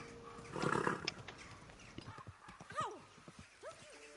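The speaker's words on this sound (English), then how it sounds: "my horse was kind of following the path" Video game hooves clatter in an uneven run in Kingdom Come: Deliverance 2, with a horse snorting and whinnying nearby and brief voices mixed in.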